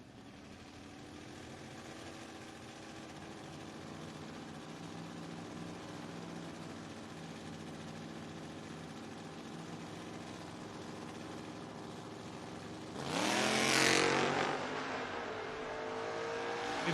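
Drag-race pairing of a Ford Ranger and a Mustang on an eighth-mile strip: a steady engine drone holds under the scene, then a sharp loud launch burst and roar near the end, fading slightly afterward.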